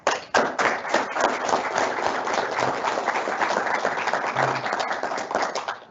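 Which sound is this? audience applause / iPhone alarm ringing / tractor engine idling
audience applause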